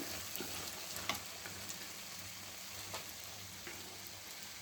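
Fajitas sizzling in a frying pan, a steady crackling hiss with occasional louder pops, close and continuous with no talking.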